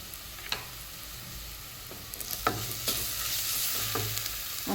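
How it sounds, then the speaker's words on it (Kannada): Biryani spice powder fries and gets stirred in a hot pan, giving a steady low sizzle broken by several sharp scraping strokes of the spoon against the pan, close up and with no talking. "ಹಾಕ್ಕೊಂಡು ಚೆನ್ನಾಗಿ ಮಿಕ್ಸ್ ಮಾಡಬೇಕು, ಫ್ರೈ ಮಾಡಬೇಕು."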